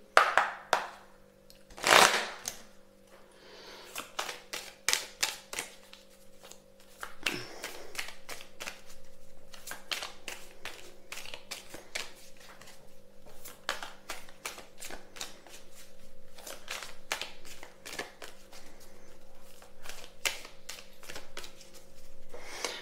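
Oracle or tarot cards being shuffled and drawn by hand, with soft repeated riffling flicks and taps spread through the clip and a brief louder slap near the start, close and fairly quiet.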